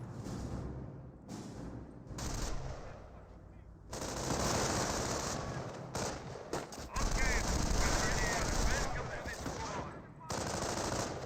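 Machine-gun and rifle fire in the Company of Heroes 1 battle game, with long rattling bursts and scattered shots coming in waves, loud and close. An announcer talks over parts of it.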